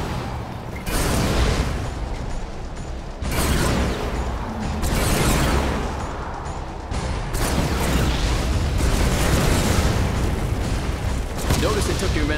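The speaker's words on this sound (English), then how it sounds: "Order your men to destroy the structure." In Command & Conquer 3: Tiberium Wars with the Tiberium Essence mod, zone troopers attack a damaged building with a steady run of booming weapon blasts and mechanical whooshes, loud and continuous, with a narrator speaking over parts of it.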